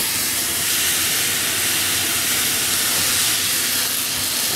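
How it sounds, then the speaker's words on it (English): Brisket sears on a grill heated to 700 degrees, a loud, close, continuous sizzling hiss that barely wavers, with no voices. "700 degrees. We're gonna sear this off."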